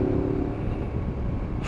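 Honda Forza MF17 250cc scooter engine running on the road, a steady low, thick rumble with wind noise that holds even and close throughout, no voices over it.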